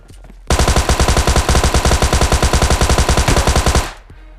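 Enemy automatic gunfire in the PUBG video game, a loud, close burst of rapid evenly spaced shots lasting over three seconds before cutting off.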